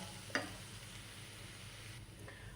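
Ground spices with a quarter teaspoon of turmeric powder sizzle softly in a pan while being stirred, a faint steady hiss with a brief scrape near the start and no talking.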